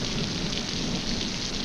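Steady rain pours down in a Pacific jungle, a dense continuous hiss of drops on surfaces with no pauses, close and even throughout.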